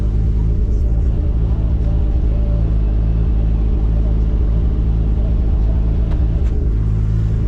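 A Nissan 350Z with a 2JZ engine swap rumbles loudly and steadily from inside the vehicle, a deep droning roar throughout with a faint voice buried beneath.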